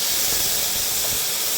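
Soy sauce hits a hot pan of adobo and sizzles in a steady, dense hiss that stays close and constant throughout.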